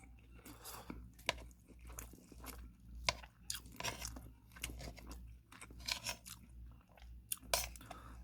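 Close, wet chewing and biting while eating egg at breakfast, steady irregular mouth crunches and smacks running throughout with no talking.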